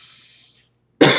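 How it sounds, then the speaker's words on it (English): A single loud, harsh cough bursts out close by after a moment of near silence, preceded by faint breathy hiss. "There's the cough."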